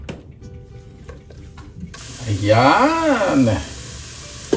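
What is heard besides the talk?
sautéing in annatto oil in a pan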